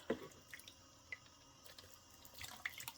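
Faint water splashing and trickling from a tap, with scattered drips and sloshing as a bottle is rinsed, quiet and close.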